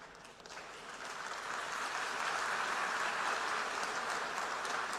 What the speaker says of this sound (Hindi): आप गया था इसकी ताली बजा रहे हो,